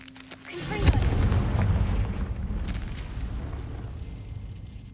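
A Confringo blasting spell goes off in Hogwarts Legacy, a sudden booming explosion with a sharp crack that swells into a heavy, rumbling roar and then slowly fades, loud and close.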